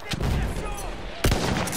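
Enemy machine gun in the Battlefield 1 video game rattles out a short burst of rapid shots, with a sharper loud report near the end, amid battle noise.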